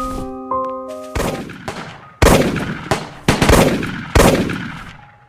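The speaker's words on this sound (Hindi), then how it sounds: "ये अंग्रेज लोग हम पर फायरिंग कर रही है" Gunfire as British troops fire on protesters in an animation: about seven loud, sharp shots in an uneven volley, each ringing out and decaying, after a brief sustained tone at the start, with no voices.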